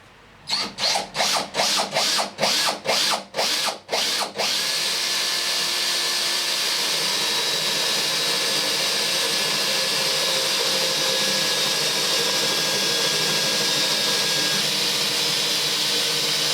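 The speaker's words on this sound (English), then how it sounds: "So now we're going to drill through from this side to the other side." A power drill bores through a wooden door: a run of rapid stuttering bursts at the start, then a loud, steady whine of the motor grinding straight through the wood, close and continuous with no talking.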